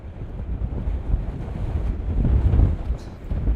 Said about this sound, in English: the wind blowing significantly through that gap